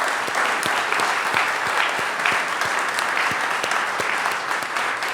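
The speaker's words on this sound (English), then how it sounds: "Can we have a round of applause for our panelists" A panel discussion audience breaks into steady, full applause for the panelists, a continuous wash of clapping with individual claps standing out, lasting about five seconds.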